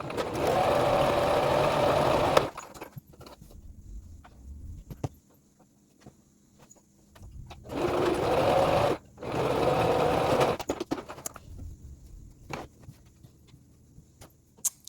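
Sewing machine stitching green gingham fabric in bursts, a loud run of about two seconds, then short pauses and quiet handling, then two more runs around the middle, close and clear with no talking.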